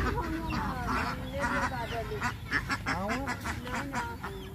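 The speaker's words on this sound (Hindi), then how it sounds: "ये देखिए इतने सारे बत्तख हैं" A large flock of farm ducks raised for eggs quacks and honks continuously, loud and close, with overlapping calls throughout and some speech mixed in.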